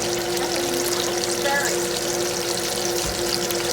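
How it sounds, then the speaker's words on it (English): Onions fry and get stirred in a pan for Ayamase stew, giving off a steady close-up sizzle with a watery hiss that holds at an even level throughout. "we're gonna add our onions, and then we're gonna stir it."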